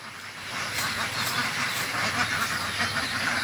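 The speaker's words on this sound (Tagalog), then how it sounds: "Nara po ang atong mga gapangitlog nga mga itik." Egg-laying ducks in a pen quack in a dense, continuous chorus, steady and fairly close with no talking.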